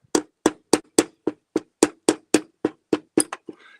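A small hammer tapping on a block to drive a tight fountain pen nib out of its section: about thirteen sharp, evenly spaced close knocks, ending with a faint rattle.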